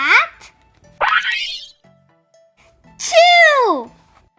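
A voice imitates an elephant sneezing during a children's book read-aloud, giving three separate exaggerated sneeze bursts with rising and falling whoops, close and loud, with silent gaps between.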